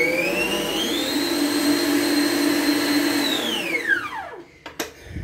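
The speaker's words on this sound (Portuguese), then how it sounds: "eu vou voltar a bater na batedeira normal" An Arno stand mixer beats a homemade three-ingredient ice cream mixture. A loud, steady motor whine holds for about three seconds, then pitch falls as it winds down, followed by a few clanks of the bowl or beater.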